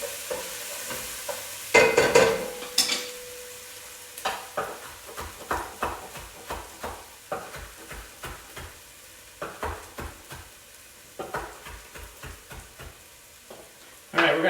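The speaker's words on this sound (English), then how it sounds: "We're going to give this a little stir. We don't want to fry it. We're trying to just cook it down." A white wine sauce cooks down in a pan under a low sizzle while a utensil stirs it in rhythmic, repeated scrapes and taps against the metal, close and fairly clear.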